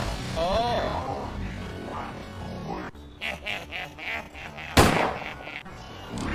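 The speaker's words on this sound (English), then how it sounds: "You shot a cannon" A single cannon shot in a video game bursts out sharply partway through, a loud close blast over game music and effects.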